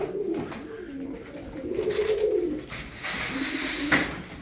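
Tumbler pigeons coo close by in low, throaty, rolling calls, several overlapping phrases repeating with brief pauses between them.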